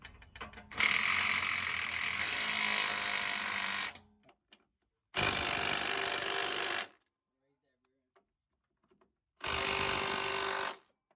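Ratchet tightening bolts during a coilover install on a 2001 Ford Mustang GT, heard as three separate close, loud bursts of rapid clicking, the first about four seconds long, with short quiet gaps between them.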